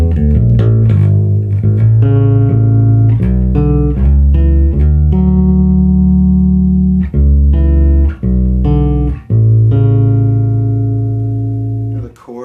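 DNA custom bass guitar built for an old-school tone, played as sustained, ringing low notes and chords with clear plucked attacks, loud and close, each note decaying slowly before the next.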